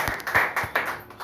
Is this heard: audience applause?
yes